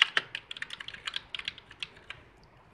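Someone types on a mechanical backlit keyboard with autumn switches, producing quick, light, irregular clicks close by, fairly quiet and alone.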